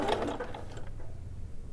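A sewing machine set to a 2.5 stitch length sews the two short ends of a single welt pocket in a brief, close mechanical whirring burst that quickly fades into quiet background.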